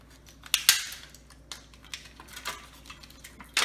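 Sharp aluminum sheet rolled tightly around a skewer, giving irregular crinkly metallic clicks and scrapes, with a couple of louder crackles near the start and end, close and fairly quiet with no talking.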